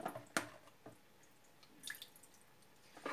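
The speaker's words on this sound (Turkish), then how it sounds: "Süzgeçe boşaltıp bir güzel süzüyoruz." Cracked green olives drain in a colander, with quiet scattered drips and wet squishes, a few sharper splats standing out against near silence.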